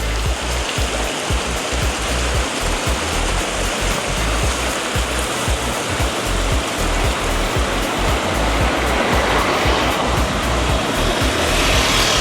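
Constant running water and small waterfalls in the gorge at Cheddar, a steady, full rushing and splashing wash that stays loud and unbroken throughout, with no voices.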